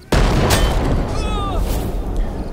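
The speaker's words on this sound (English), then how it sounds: "we're gonna throw this grenade right at your damn feet" A grenade explodes in the video game Classified: France '44, a sudden loud boom that rumbles and decays over a couple of seconds, with faint ringing tones in the tail.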